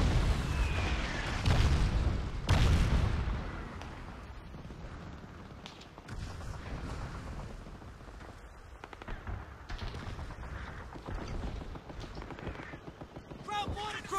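Booming German mortar blasts in the World War II shooter Call of Duty: Big Red One, a heavy nearby impact early on followed by scattered distant thumps and gunfire, with someone talking over the action.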